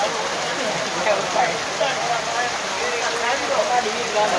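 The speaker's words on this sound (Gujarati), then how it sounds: "જો આ પાલીતાણાના બસ સ્ટેન્ડમાં વરસાદ પણ આટલો ચાલુ છે ઘણો બધો ચાલુ છે" Heavy rain falls at the Palitana bus stand, a loud, steady, close hiss of drops striking surfaces with no break.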